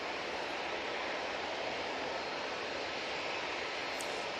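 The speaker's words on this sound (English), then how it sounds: "Next out, we have this Jet2 737 that'll be going off to Tenerife" A Jet2 Boeing 737 airliner departs Manchester Airport, heard as a faint, distant, steady broadband jet roar that holds evenly throughout with no other sounds.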